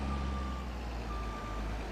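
A truck in a farming simulator game backs up, its reversing alarm sounding steady, evenly spaced electronic beeps over a low engine hum, close and clear.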